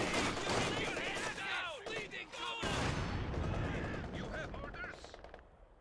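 Video-game machine gun fire in a WWII-style battle, bursts rattling under a dense mix of game voices and battlefield noise, steady and loud throughout before fading near the end.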